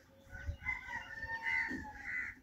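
A frightened turkey gives a string of loud, nasal gobbling calls nearby, rising and falling in uneven bursts amid faint background rustle, no talk.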